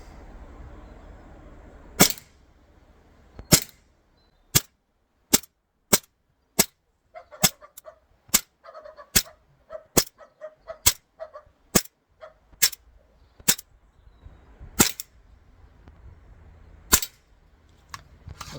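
An ASG CZ75 BB pistol fires about twenty sharp, loud cracks in an uneven but steady sequence, some in quick pairs, with a faint clattering between shots midway.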